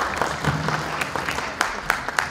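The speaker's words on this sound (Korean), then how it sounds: "여러분 큰 박수로 부탁드립니다." Audience applause at a software policy research institute opening ceremony in 2014, a steady patter of clapping across the room with a few sharper claps standing out near the end.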